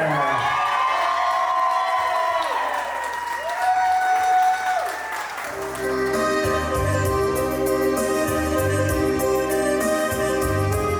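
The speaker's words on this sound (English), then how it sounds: "Clap those hands and make some noise for your beautiful bride and your handsome groom, Giovana and Robert." Wedding guests at The Grand in Totowa, NJ clap and cheer for the bride and groom, a loud, steady crowd ovation with whoops; music swells in underneath partway through.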